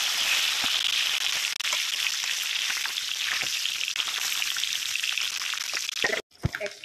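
Bhetki fish, salted and turmeric-coated, frying in hot oil in a wok, giving a loud, steady close sizzle with scattered pops and spatters that cuts off near the end.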